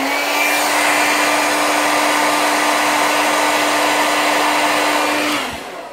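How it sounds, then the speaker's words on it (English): A hair dryer blows steadily and loudly up close to dry 3D fiber lash extensions, a constant whirring hiss that cuts off near the end. "blow dry."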